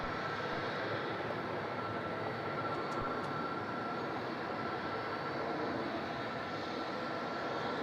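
A jet aircraft at Melbourne Airport rumbles steadily in a broad, continuous roar, loud and unbroken throughout, with a faint high tone riding over it.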